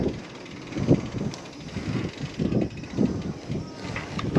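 Steady wind buffeting a microphone in gusty, rumbling bursts, close and fairly loud, with a faint hiss underneath.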